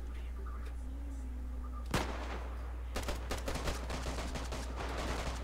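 Gunfire in the DayZ survival game rings out as one sharp distant shot, followed by a rapid stuttering string of fainter shots over a steady low hum.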